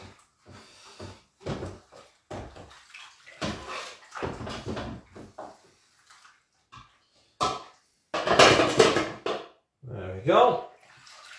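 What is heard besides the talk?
washing out a baking tin with water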